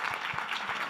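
An audience at a health symposium applauds a personal testimony, a brief, dense wash of many hands clapping at an even, moderately loud level.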